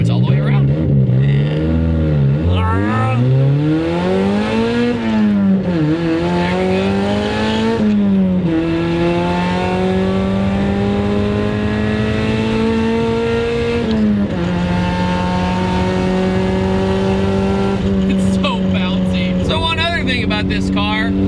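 A turbocharged Mazda Miata sports car engine revs up and down through gears, loud and close, pitch climbing and shifting with strong turbo whine throughout.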